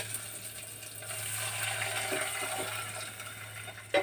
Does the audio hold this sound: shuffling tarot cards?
no